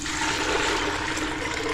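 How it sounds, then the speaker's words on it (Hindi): Water pours steadily into a pressure cooker of soaked chickpeas, a continuous close rushing splash at constant loudness with no talking. "अब हम इसमें डालेंगे पानी।"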